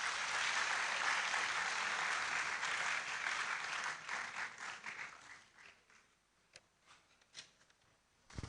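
A university ceremony audience gives a dense round of applause that holds strongly for several seconds, then thins to scattered claps and fades out.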